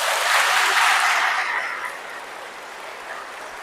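Congregation applause in a Catholic parish church, a burst of many hands clapping that is loud at first and thins out and dies away after a couple of seconds.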